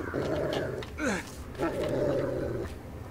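Dog growling in the stealth video game Thief, low rumbling snarls in two long stretches with a brief yelping glide between them, fairly close and alone.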